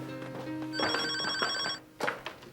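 An indoor telephone rings with a bright electronic trill, one sustained ring cycle followed by a short burst, heard near and fairly clear.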